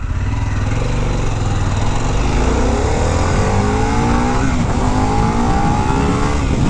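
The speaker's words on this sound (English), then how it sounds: "Woo! Wheelie! Second gear wheelie." A 2021 Harley-Davidson Pan America motorcycle pulls hard through second gear, its loud engine note climbing steadily in pitch, with heavy wind roar throughout and no talk.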